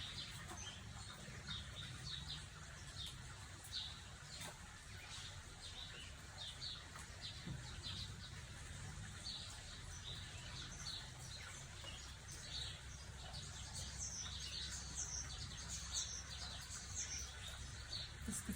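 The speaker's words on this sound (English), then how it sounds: "So many birds. I just realized sitting here how many birds have got singing in the background here." Many birds chirping and singing outdoors in the background, faint and distant, with scattered tweets repeating steadily over a low continuous ambient hum.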